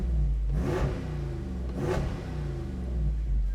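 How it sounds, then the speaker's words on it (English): A Jeep Wrangler 392 V8 with dual-mode exhaust is revved while parked, giving two sharp throaty rises over a deep, loud idle burble, close by. "And it's got a dual mode exhaust,"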